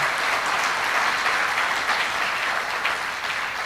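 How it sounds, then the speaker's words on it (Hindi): A packed hall audience claps steadily at a Hanuman-themed religious discourse, a dense, even wash of applause that stays loud throughout without pause. "आप तो ताली बजाओ सब, आप देखो हॉल भर गया।"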